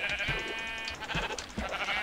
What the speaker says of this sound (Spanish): tengo aquí unas preciosas ovejas, vamos a matarlas